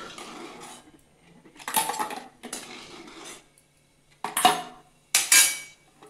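Boiled eggs clatter into a bowl in a home kitchen, several short bursts of clinking and scraping separated by brief silences, close and clear.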